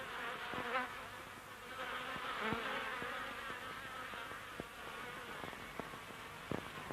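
Wild bees buzz around their comb outdoors, a continuous close droning hum with a few sharp ticks and knocks scattered through.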